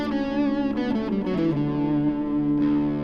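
A distorted electric guitar plays a major scale note by note over a sustained, ringing low E drone, the notes stepping along steadily before one held tone rings out at the end.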